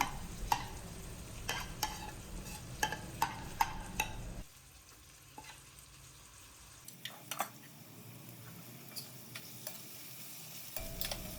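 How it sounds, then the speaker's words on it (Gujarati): Masala being stirred into papdi beans in a pan while making Surti undhiyu, with quiet scraping and clicking of the spoon over a soft frying hiss; the stirring pauses midway, then resumes. "બધો મસાલો પાપડીમાં નાખી અને સારી રીતે ચલાવીને મિક્સ કરી લેવાનો"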